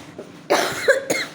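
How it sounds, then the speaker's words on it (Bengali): A person with a severe cough coughs two or three times in quick succession, close and fairly loud, with no speech around the coughs. "আর আজকে প্রচণ্ড কাশি হচ্ছে আমার"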